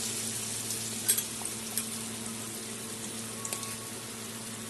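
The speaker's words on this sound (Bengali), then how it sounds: "এইভাবে করে সবগুলো আমি ভেজে নেব একটা একটা করে" Rice-flour-coated pumpkin pakoras fry in hot oil, producing a steady, even sizzle and hiss throughout with a few faint clicks and taps near the pan.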